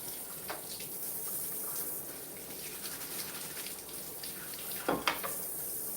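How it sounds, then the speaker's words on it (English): Soapy water pours and splashes while a spatula is washed, a steady running gush with a couple of brief louder splashes near the end. "Pour some soapy water on it."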